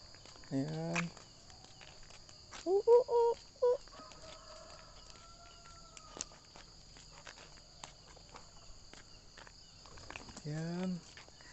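Free-ranging Indonesian village chickens cluck in short bursts near and far over a steady cricket trill, with footsteps and brief human voices in between.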